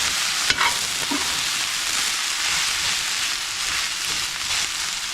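Plant-based bulgogi fried rice sizzles in a hot pan while it is stirred and broken up, a steady loud frying hiss with scraping spatula strokes.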